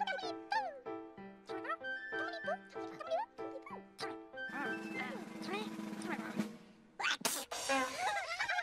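Cartoon characters sneeze in a quick series of squeaky, comic sneezes amid lively children's show music, with a high-pitched voice chattering and a busier, louder musical passage toward the end.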